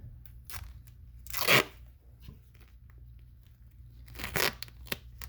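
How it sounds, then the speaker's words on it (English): Duct tape torn from a roll and wrapped around a carrot to protect a bent ring during repair, giving two loud ripping bursts with softer crinkling in between, close up and without talk. "you're going to want to wrap a little duct tape around that first"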